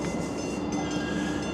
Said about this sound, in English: that train's going express, and I hate when that happens